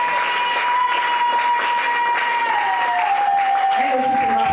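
Applause rises from a church audience honoring a reverend pastor at a women's seminary, a steady dense clapping wash lasting throughout, with a voice speaking over it.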